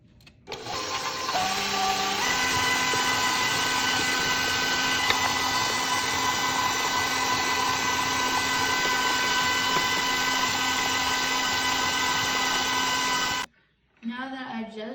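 An electric stand mixer whirs steadily as it beats chocolate chip cookie batter in a bowl, starting up with a brief stutter and then running loud and continuous before cutting off abruptly near the end.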